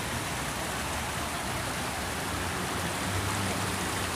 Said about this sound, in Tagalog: Gan, gaagas ang tubig.